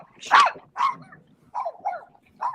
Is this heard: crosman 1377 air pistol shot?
no